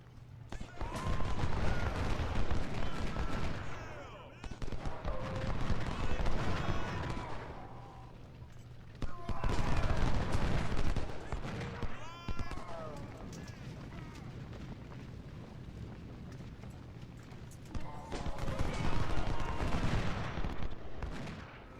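Cannon and rifle fire in Ultimate General Civil War, a Confederate 2nd Bull Run battle, with booming artillery and crackling musketry in repeated waves, a steady low hum beneath, and someone talking over much of it.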